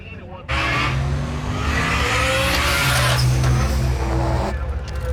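Race cars roaring at a dragstrip during Sick Week, a loud sustained engine blast with tire noise that swells and holds, with people talking faintly over it.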